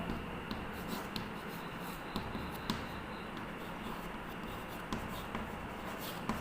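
Handwriting during a Class 9 math lesson on Heron's formula: soft, quiet scratching strokes with a few light taps, steady against a faint room background and no talk.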